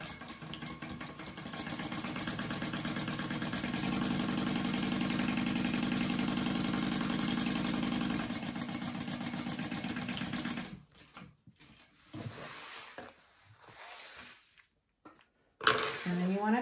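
A sewing machine runs steadily for about ten seconds, stitching two handbag lining pieces together along a wide seam, then gives way to a few short, stop-start bursts of stitching.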